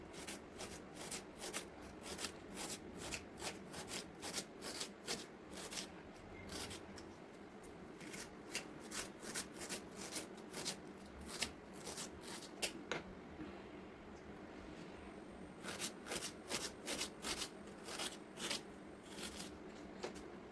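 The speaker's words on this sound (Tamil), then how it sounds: "ஒரு பெரிய சைஸ் வெங்காயம் எடுத்து நம்ம சின்னதாக கட் பண்ணி வச்சுக்கலாம்." A large onion is chopped into small pieces on a board with a fast, steady run of close knife taps, pausing briefly partway through and then resuming.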